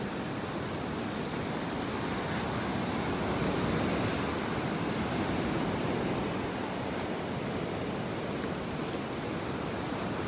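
Ocean surf washing onto a beach in North Naples, Florida, a broad steady hiss of breaking waves with light wind noise, unbroken and alone.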